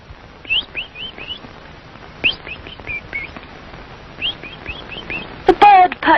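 Cartoon bird chirping in short bursts of bright tweets, with clusters of quick rising calls spread across the clip, moderately loud over a faint background, followed by a brief fluttery flourish near the end.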